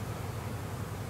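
Honey bees from a package colony, being installed into a hive, make a steady, low, droning buzz that continues evenly throughout, fairly faint and heard alone without voices.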